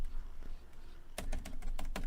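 A mechanical keyboard clacks quietly at first, then bursts into a quick run of sharp, close keystrokes in an indoor room.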